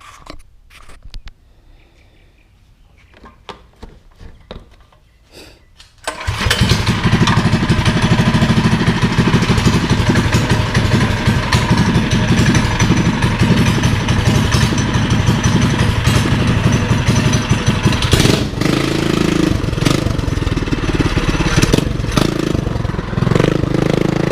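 An ATV with a Predator engine swap cranks and fires after a few quiet seconds, then runs loud and close with a steady, rough, buzzing idle and slight revving throughout.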